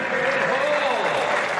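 A large crowd claps and cheers loudly and continuously after Eddie Hall's strongman performance, a dense burst of applause filling the short moment.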